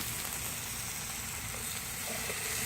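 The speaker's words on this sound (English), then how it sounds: "I'm gonna put it on the griddle, on the electric griddle" Pre-cooked gyro slices sizzling on an electric griddle, a steady, close hiss and crackle that runs unbroken throughout with no talking.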